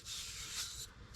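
Sandpaper rubs in a steady, faint scraping stroke across fiberglass on intercooler piping for a K20 turbo Civic hatchback, close and quiet.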